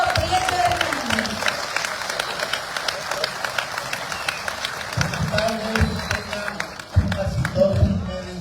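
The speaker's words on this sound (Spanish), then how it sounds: "Fuerte el aplauso" Audience applause at a live book presentation, rising as an anthropologist is introduced; steady broadband clapping from a crowd, with voices and low murmuring beneath it and a louder swell in the final seconds.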